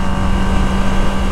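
Kawasaki ZX25R four-cylinder motorcycle, about 500 km old with stock air filter and exhaust, its engine droning loud and steady at high revs, close to the microphone with no talk.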